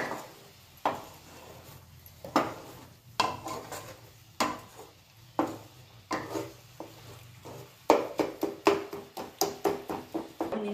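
Ambadi flower dish stirred in a pan, with repeated scraping and knocking of a spoon against the cookware in an irregular rhythm and a faint sizzle underneath.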